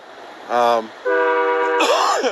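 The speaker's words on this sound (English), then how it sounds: "And I apologize for the train." A train horn sounds nearby as a train passes: three loud, sustained horn blasts, the last one sliding in pitch as the train goes by, with no talking over it.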